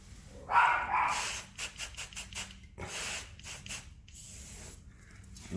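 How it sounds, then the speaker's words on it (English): A spray bottle of citrus solvent hisses in a quick series of short squirts, several pumps in a row, close and fairly quiet. "I'm going to spray some citrus solvent on it"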